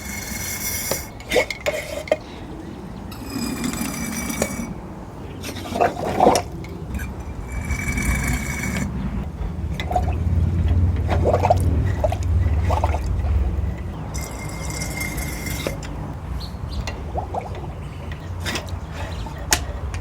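Liquid draining from a cylinder of a 1999 Jeep Cherokee engine into a glass pickle jar, a quiet ongoing trickle with intermittent clinks and handling noises, no voices.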